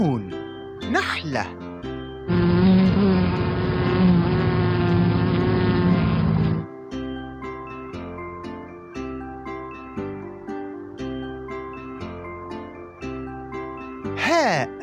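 A bee buzzing sound effect plays in an Arabic children's alphabet song, a loud steady buzz of about four seconds set between sung lines and music.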